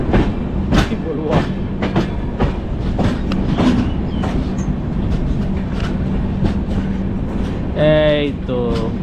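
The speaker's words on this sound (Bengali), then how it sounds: "হাওড়া পুরী সুপারফাস্ট এক্সপ্রেস ঢুকিয়ে দিল পুরী স্টেশনে" The 12837 Howrah Puri Superfast Express pulls into Puri station with loud, rhythmic wheel clatter and a brief tonal squeal near the end, under people talking nearby.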